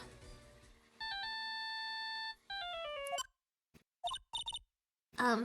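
Ringtone of a mobile phone from the Phoenix Wright Ace Attorney: Justice for All video game, playing a bright electronic melody of steady tones. A short run of beeps and a brief voice follow.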